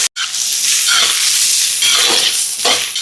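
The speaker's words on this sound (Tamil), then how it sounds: "இப்போ இதெல்லாம் நல்லா வதங்கட்டும்." Green chillies, onion and spices sauté in a hot pan with a steady, loud, close sizzle, broken by a few stirring scrapes and no talk.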